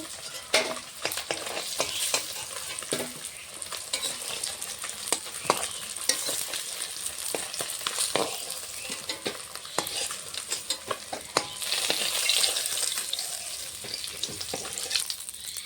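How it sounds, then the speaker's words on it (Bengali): Fish pieces fry in hot oil in a pan with a constant close sizzle, broken by scattered sharp clicks and scrapes of stirring, with no voices. "বাকি মাছগুলো এভাবে ভেজে নেব"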